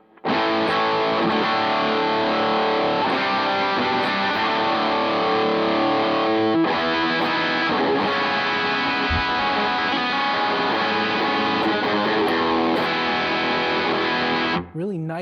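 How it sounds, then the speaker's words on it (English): Electric guitar through a Wampler Collective Series distortion pedal plays sustained, harmonically rich distorted chords and riffs, loud and close throughout, with a brief pause midway and no talk over it. "Really nice, full, rich harmonic distortion."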